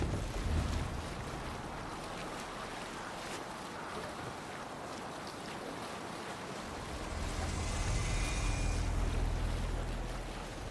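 A Viking longship sails over the waves in Assassin's Creed Valhalla: continuous wind and the rush of water around the hull, swelling louder toward the end, with no voices.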